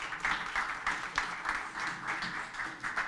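A conference audience claps for a moderator and panel at a supply chain event, a modest, uneven patter of hands rising and falling in small pulses, fairly distant in a large room.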